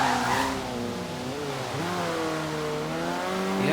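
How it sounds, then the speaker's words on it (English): A Ford Fiesta in Forza Horizon 3 pulls a handbrake turn, a loud sustained tire squeal and skid riding over a steady revving engine, with no talk. "that was a handbrake turn."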